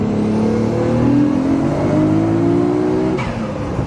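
A Nissan Skyline R33 pulls hard in third gear, its engine note rising steadily and loudly from inside the car before lifting off near the end.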